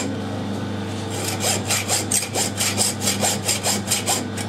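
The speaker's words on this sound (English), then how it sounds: "Nothing wrong with cutting the last quarter inch by hand." A hand saw cuts through the last quarter inch of stock in a workshop, a close, loud rasping stroke repeated in a quick steady rhythm of about a dozen back-and-forth pulls, with no talking.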